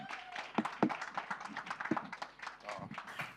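Scattered hand claps from an audience welcoming a guest at a Māori research symposium, a few sharp claps standing out over voices talking throughout.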